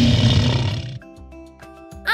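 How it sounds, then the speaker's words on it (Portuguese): A loud, rumbling lion roar fills the first second, then fades into soft, light music. "Esse é o som do leão! Que som poderoso ele tem!"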